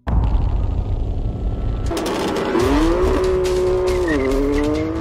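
A BMW M3 sports sedan on a race circuit gives a loud, sustained engine drone. Partway through it shifts to a higher revving tone that rises and falls through gear changes, like a car accelerating hard along the track.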